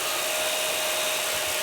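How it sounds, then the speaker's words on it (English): A 12-volt USB mini air conditioner fan runs in a van with a steady, close whir and a faint tonal hum, unchanging and without voices. "just USB mini air conditioners like this one here."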